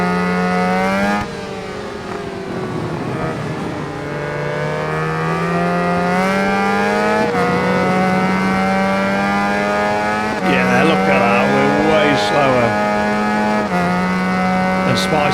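A 1986 Yamaha FZ-750 and a Suzuki-style 636 race bike in the RIDE 4 video game scream at high revs, with steady, loud engine tones that rise and drop through gear shifts as they run close together. A voice talks over them throughout.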